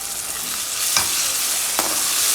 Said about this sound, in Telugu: ఇప్పుడు కూడా కొంచెం ఫ్రై అయ్యేదాకా బాగా కలుపుకోవాలి.